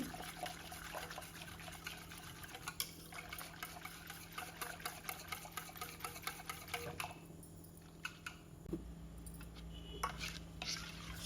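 A beater churns batter for instant ginn in a bowl, making a continuous rhythmic whirring and sloshing that eases briefly partway through before picking up again, with no speech.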